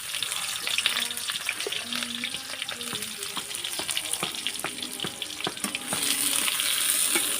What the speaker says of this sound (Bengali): কড়াইতে তেল দিয়েছি, তেল গরম হয়ে গেছে। এখন দিয়ে দিলাম পেঁয়াজ কুচি।